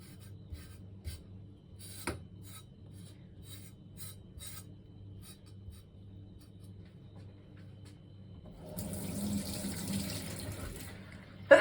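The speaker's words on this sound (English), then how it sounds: "I'm just washing the knife because that's actually a very important step here" A kitchen knife is washed under a running tap. Faint rubbing and scraping come first, then the water gushes on for a few seconds near the end, close and moderate in level.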